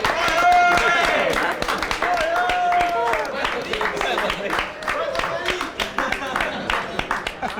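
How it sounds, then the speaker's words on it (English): Applause for the new champion at the partypoker World Open VI poker tournament, crisp individual claps from a small audience sounding over a presenter's continuous speech throughout. "A big round of applause here."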